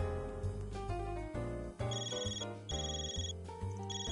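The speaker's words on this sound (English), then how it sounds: "Oops, someone's calling." A phone rings in the Trails Through Daybreak II game: a melodic electronic ringtone with repeating chiming phrases, clear and steady, with no voices.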